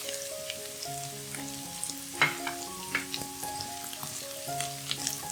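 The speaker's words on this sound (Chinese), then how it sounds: "待油热后放入大白菜炒香" Napa cabbage stir-fries in hot oil with a bright, steady sizzle and intermittent crackles and spatula scrapes, close and fairly loud, while faint background music plays underneath.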